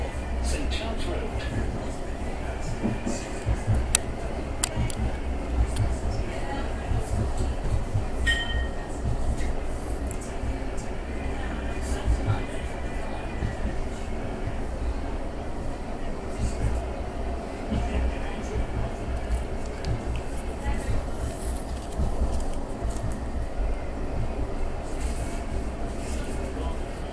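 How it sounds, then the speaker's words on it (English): Blackpool seafront tram rolling along its tracks with a steady low rumble, clinks and rattles from the car, while an onboard voice announcement plays over it. "This tram is for Blackpool Ferry. Next stop, St Charles Road."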